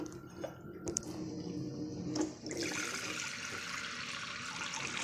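Filtered reverse-osmosis water pours in a home kitchen, a soft continuous trickle and splash with a few small knocks early on, faint and close, with no talking.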